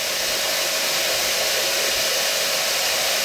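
Pressurized air spray blowing through a shop vac filter, a loud, steady, hissing rush that holds constant throughout, close by and without any voice.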